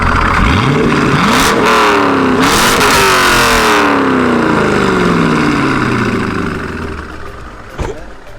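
A turbocharged Honda Civic without headers revs hard nearby, its engine note sweeping up and down through several loud pulls before settling toward idle, with a short knock near the end.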